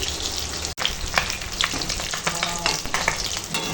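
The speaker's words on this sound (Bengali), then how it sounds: "মাছটা সুন্দর একদম সোনালি করে ভেজে নিয়েছি" Fish frying golden in hot oil in a pan, a loud, continuous close-up sizzle with crackles and stirring sounds and no voices.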